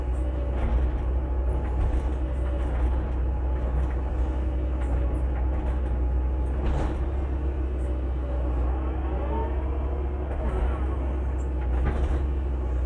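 A CAT 312C excavator with manual controls, imported from Japan and fully reconditioned, runs with a loud, steady low engine rumble and a hydraulic whine as it swings and brakes, close by.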